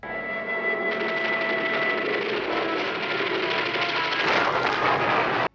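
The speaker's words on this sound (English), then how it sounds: "The Zeros return for another strafing pass." Japanese Zero fighter planes roar overhead on a strafing pass in the 1980 war film The Final Countdown, a loud, sustained engine drone mixed with gunfire that builds and then cuts off sharply.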